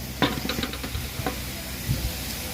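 A salted, spiced onion mixture for biryani being sautéed in a pan: steady close sizzling with a few knocks and scrapes of a spoon against the pan.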